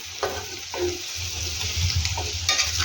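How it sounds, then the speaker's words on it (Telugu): Boiled potatoes tossed and stirred into a spiced masala in a hot pan for aloo fry, with scraping stirs and a light sizzle under a steady low hum. "మనము ఉడికించుకున్నటువంటి బంగాళాదుంపలు యాడ్ చేసుకుందాం"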